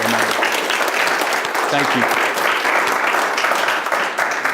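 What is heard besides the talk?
applause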